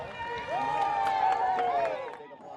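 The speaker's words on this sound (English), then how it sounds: "so big applause." Parade crowd in Oro Valley applauding and cheering a passing community sponsor group during the town's 50th anniversary parade, a steady wash of clapping and raised voices with a high whistle-like cry riding over it, fading slightly at the end.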